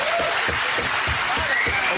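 A studio audience on a comedy panel show claps in a dense, steady burst of applause that fills the whole moment.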